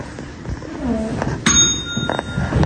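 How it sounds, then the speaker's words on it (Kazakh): A bell pressed to answer a chemistry quiz question in a 7th-grade classroom dings sharply once mid-clip, its ring lingering over classroom murmur and a later faint chime. "қоңырау шаны басу арқылы жауап береміз"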